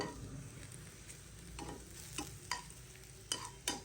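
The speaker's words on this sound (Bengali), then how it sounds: "আমি রসুন একটু ভেজে নিচ্ছি" Garlic browning in hot oil gives a soft, steady sizzle, punctuated by several sharp spatula scrapes and taps against the pan spaced through the second half, quiet and close, with no voices.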